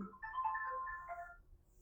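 A mobile phone ringtone goes off among an audience at a religious discourse, a faint, brief melodic chime lasting just over a second before fading.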